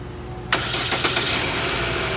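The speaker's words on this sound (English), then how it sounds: "we're going to start the car, make sure it starts." A car engine cranks and catches after a short quiet moment, then settles straight into a loud, even idle close by.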